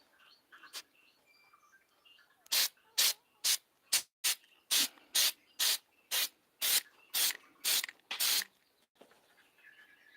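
An aerosol spray can of chip guard paint is sprayed onto a clawfoot tub in a run of about thirteen short, loud, hissing bursts at a quick, even rhythm, close by with no talking.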